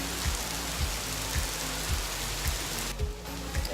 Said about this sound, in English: Here is the rain.